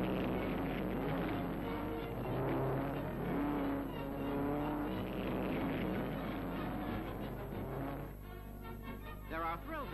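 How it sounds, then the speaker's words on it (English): Motorcycles in a hill-climb contest charge up a steep slope at wide-open throttle, giving a loud, continuous engine roar with rising revs that shifts and strains throughout. "dash up the steep slope with the throttle wide open and hope to go over the top in one piece"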